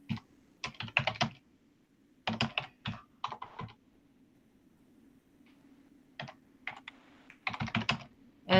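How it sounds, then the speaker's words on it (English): Bursts of typing on a computer keyboard during a school board meeting, with quick clusters of clicks separated by pauses over a low steady hum. "Somebody's typing."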